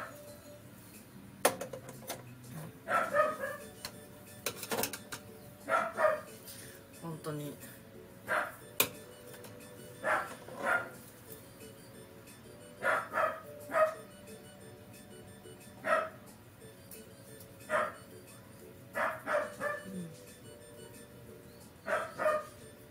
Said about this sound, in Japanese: ダックスフンドって吠えるよな